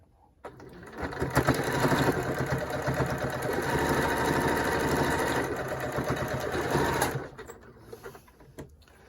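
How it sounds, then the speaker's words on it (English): A sewing machine stitches across a pleat on a fabric face mask, a close, steady rapid whir of needle strokes lasting about six seconds before stopping. "just lowering the presser foot near the top of this pleat and stitch across from there to here"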